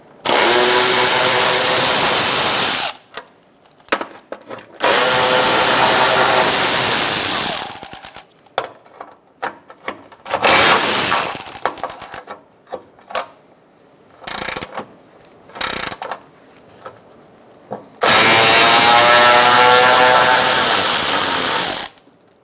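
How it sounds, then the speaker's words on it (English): A ratchet with a 10mm socket undoes the splash shield bolts under a 2012-2017 Hyundai Accent, with loud, fast clicking bursts of several seconds separated by pauses and scattered single clicks. "Now we're going to use a 10mm socket and we're going to undo our bolts."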